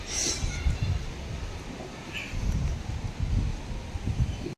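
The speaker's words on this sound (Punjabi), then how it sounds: "ਹਵਾ ਚੱਲ ਰਹੀ ਹੈ ਨਾ" Wind gusting outdoors during a strong storm, a rough, rumbling buffeting that stays loud and close throughout, with leaves rustling over it.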